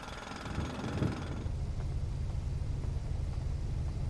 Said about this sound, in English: Jumped on it, pressed button, and away he went with a big jackhammer.